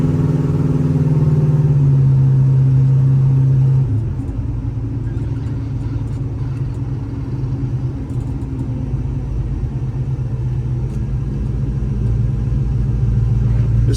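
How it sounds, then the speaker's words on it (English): A 1955 Chevrolet Bel Air cruises down the road, its engine giving a loud, steady low rumble. The engine holds a higher note at first, then drops after a shift to a smooth, even drone. "This car's very smooth going down the road."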